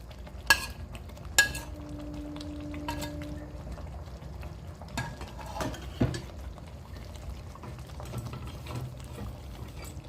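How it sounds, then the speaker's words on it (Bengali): Paneer cubes tipped into a pan and stirred in a home kitchen: a few sharp knocks and clatters of a utensil against the pan over a soft, steady background sizzle, fairly quiet and close. "এবার পনিরগুলো ঢেলে দেবো।"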